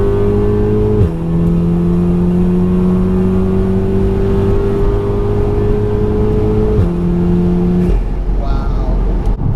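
A 500bhp Littco Stage 3 VW Golf R under full throttle on an uphill pull, engine note climbing steadily through gears with brief drops at shifts, loud from inside the cabin, with a voice talking over it.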